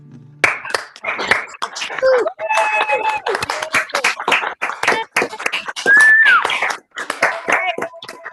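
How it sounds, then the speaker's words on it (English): Audience members on an unmuted video call for a songwriter showcase clap and cheer in overlapping bursts, with whoops, shouts and a rooster-like crow mixed in over choppy, clipped call audio. "give a big round of applause for this"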